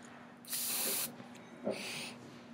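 Two short hissing bursts from an aerosol spray can, the first longer, the second briefer, close and fairly quiet against a soft background hum.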